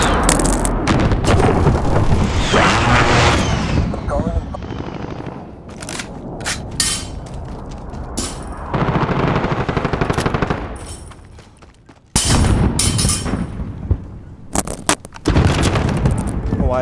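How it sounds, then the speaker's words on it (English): Call of Duty gameplay in which a precision airstrike lands: rapid machine-gun bursts and booming explosions come in loud, dense waves with brief gaps, and a voice speaks partway through. "Enemy precision airstrike inbound."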